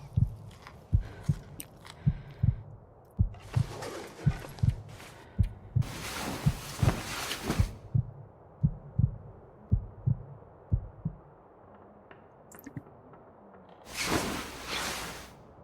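A heartbeat thumps at low condition in The Long Dark, a survival video game: a steady, soft double-beat pulse that keeps going under muffled whooshing gusts of wind.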